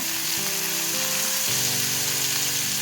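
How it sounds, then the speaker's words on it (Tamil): Drumstick flesh thokku with salt sautés in a pan, giving a continuous close sizzle, with a few soft stirring knocks and no talking. "இது அப்படியே நல்லா வதங்கட்டுங்க"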